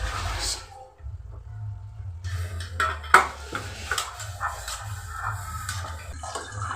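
A spoon scrapes and clinks against a pan while moong dal halwa is stirred and roasted over low heat, with irregular close metallic knocks, one sharp clang, and soft shuffling between them.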